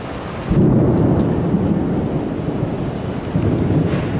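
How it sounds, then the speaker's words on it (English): Thunder from an approaching thunderstorm in New York City, a loud, deep rumble that swells suddenly and rolls on for several seconds, mixed with wind buffeting the microphone. "there's an inbound thunderstorm and it just started drizzling"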